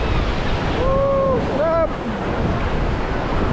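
Sea waves wash onto the shore at Real, Quezon, a steady broadband surf roar with wind buffeting the microphone throughout, while people talk excitedly over it.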